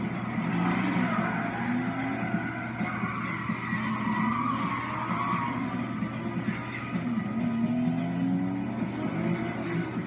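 Street race in the video game Need for Speed Most Wanted (2005): continuous engine drone with long wailing tire squeals and skids sweeping up and down, steady and fairly loud, with no talking.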